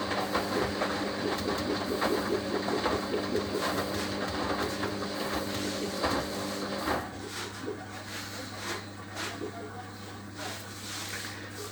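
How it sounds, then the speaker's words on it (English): A Hoover HLW585DC washing machine drains before its final spin, with a rattling, whirring churn that drops to a steady low pump hum. "we're draining for the final spin, which will be at 1200 RPM"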